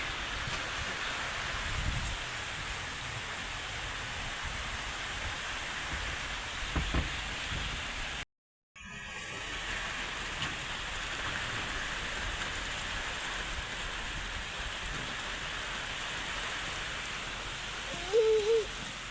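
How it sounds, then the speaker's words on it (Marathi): Heavy monsoon rain pours steadily outside a house doorway, a dense, continuous hiss of drops on surfaces that stays loud throughout, broken only by a brief gap, with a faint distant rumble. "पाऊस किती झालाय अजून तर भरपूर चालूच आहे"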